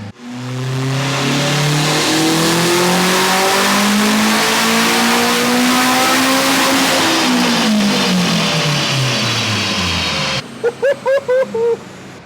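A turbocharged 8th-generation Honda Civic making over 400 hp on a dyno roars loudly as the engine climbs steadily through the revs, peaks, then drops, followed by a few sharp popping bursts near the end.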